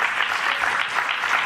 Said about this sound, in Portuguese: Meia dúzia batendo palma.